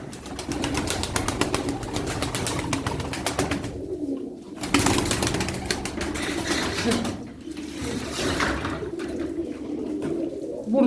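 A flock of fifteen tumbler pigeons coos in a loft, with soft rhythmic throaty calls layered over each other, steady and close, and faint background voices now and then.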